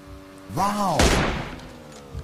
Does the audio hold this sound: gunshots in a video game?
yes